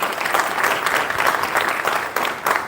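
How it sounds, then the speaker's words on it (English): Steady clapping from an audience at a Republic Day school function fills the space, a dense, even wash of hands without breaks or cheering. "Let's welcome him with a huge round of applause."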